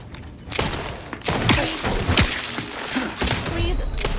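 Gunfire in the video game Outer Worlds 2: a rapid series of sharp shots and heavy thuds in irregular bursts, loud and close, with a few brief metallic clanks between the volleys.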